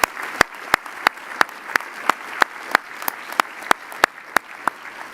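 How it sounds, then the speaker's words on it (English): Applause at a business ethics awards ceremony for the serving staff, a steady clapping with one loud, regular near clap standing out every third of a second over softer crowd clapping. "could we just give a round of applause to the folks from the Miro Center that have been serving us today?"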